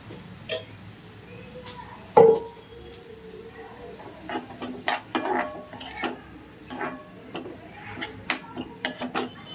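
Moong dal stirred with turmeric and salt in a pan, giving scattered close clinks and scrapes of a utensil against the metal, with one sharper knock early and irregular taps after.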